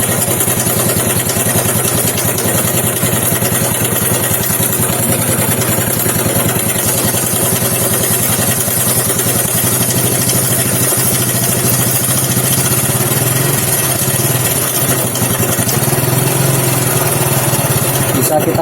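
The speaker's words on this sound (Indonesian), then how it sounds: "tunggu saja dulu biar stasioner dulu, biar terisi oli dulu" A Honda Supra X motorcycle engine idles steadily after a cam chain replacement, a loud, continuous mechanical chatter and hum that holds unchanged throughout with no talk.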